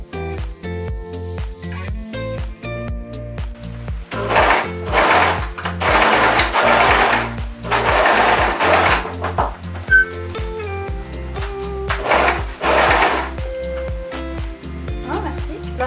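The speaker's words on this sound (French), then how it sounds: "Ensuite je vais commencer à coudre donc la ceinture avec la jupe." A sewing machine stitches a waistband belt onto a skirt in loud bursts of rapid mechanical whirring, separated by short pauses, with someone talking between the runs.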